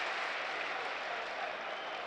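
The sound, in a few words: applause for a player at a football match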